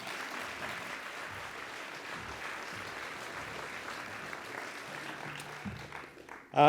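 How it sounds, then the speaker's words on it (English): An audience at an animal justice awards evening claps for the foundation's president, a faint, even patter of applause that goes on steadily and then rises sharply at the very end. "Please give him a round of applause."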